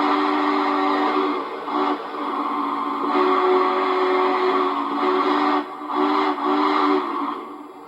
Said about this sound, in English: First up, here is the quillable whistle.